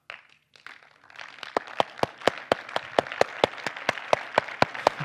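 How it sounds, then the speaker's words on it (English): An audience at a tech conference talk claps on request during a live streaming-analytics demo, the claps falling into a steady, evenly spaced rhythm of sharp hits over a soft wash of room noise. "Now, what I want you guys to do is clap."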